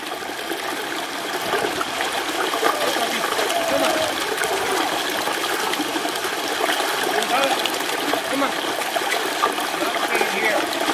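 A puppy paddles and splashes on its first swim out from a river bank, with steady watery trickling and splashing throughout at close range.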